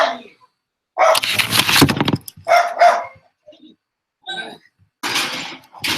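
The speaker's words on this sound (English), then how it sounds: "It's because the neighbor dog." A neighbor's dog barking outdoors in separate bursts with gaps between them, fairly loud and mixed with people talking nearby.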